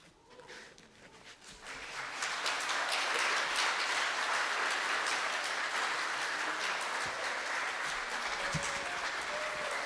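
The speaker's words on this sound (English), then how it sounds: "Can we give her another round of applause?" Applause from an audience at a diversity celebration for a poem reader, starting light and swelling after about two seconds into a loud, sustained, rain-like roar of clapping.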